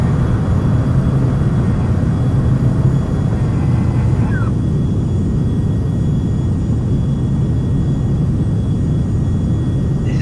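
Carenado Premier private jet taking off in a flight simulator, a steady loud low engine roar with a constant rumble filling the whole stretch, no talk heard over it.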